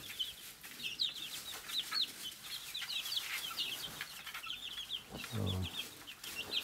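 Several chickens cluck softly and steadily together at close range, their short repeated calls overlapping, with a brief low thump near the end.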